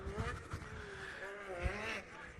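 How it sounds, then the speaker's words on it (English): A race car in a DTOR King of the Shell race series slides and drifts around corners with a distant, wavering engine drone under continuous commentary. "sliding around the corners, doing a little drifting"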